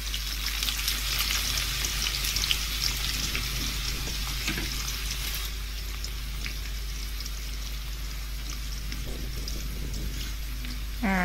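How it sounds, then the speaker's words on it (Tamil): Chopped onions fry in a hot pan for semiya biryani with a steady, close sizzle and crackle throughout. Occasional stirring sounds come through, with a brief scrape near the end. "இப்போ கட் பண்ண வெங்காயத்தை அதில் போட்டுக்குவோம்."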